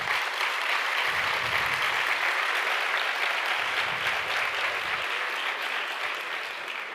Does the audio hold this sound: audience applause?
yes